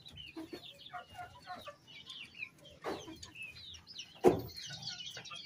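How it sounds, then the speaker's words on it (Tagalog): Mother hens in a Pangasinan backyard flock cluck softly and continuously at a distance, with scattered chirps and one sharper squawk near the end. "Ayan yung ating mga inahin."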